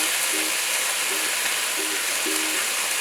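Garlic and onions sizzle in a pan while a chicken curry is started, giving a steady broadband frying hiss at a constant level with a few faint higher tones, and no voices.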